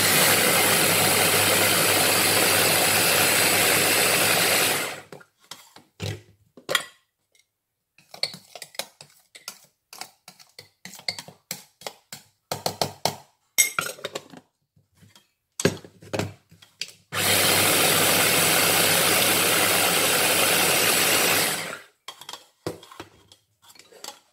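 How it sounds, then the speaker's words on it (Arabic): An electric grinder whirs loudly for about five seconds as it grinds spices for a lemon leg of lamb. Scattered clinks and taps of utensils follow, then the grinder roars again for another steady five-second stretch. "اذا ضفت هذيك التوابل حتى هي وغادي نعاود نطحن كلشي"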